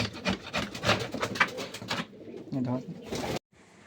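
Pigeons cooing softly inside their loft, low throaty coos repeating among rustling and wooden knocks, with a person talking over them.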